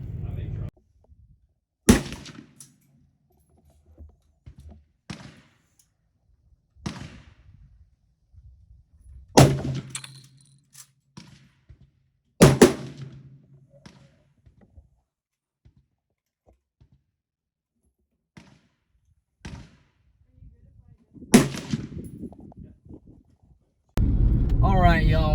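Sharp rifle shots ring out one at a time, spaced several seconds apart, during sighting-in on a ram hunt, each followed by a short echoing decay, with a voice talking in places.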